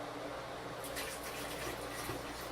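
Antifreeze pours steadily into a shower drain inside a building being shut down, a faint continuous liquid trickle and gurgle with no talk.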